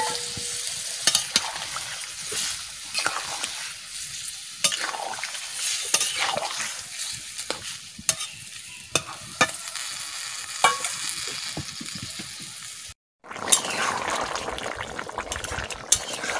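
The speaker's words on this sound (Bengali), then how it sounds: "তরকারিটা ঢেলে দিচ্ছি।" Fish curry with potato, carrot and cauliflower sizzles steadily in a pan while a utensil scrapes and stirs, with sharp clinks throughout, a brief silent gap, then the frying resumes up close.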